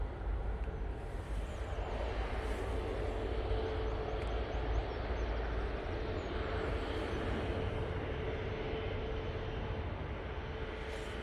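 An Ethiopian airliner taxis toward its stand at Manchester Airport, a continuous distant jet engine whine and broad rumble holding steady, faint and unbroken, with no voices.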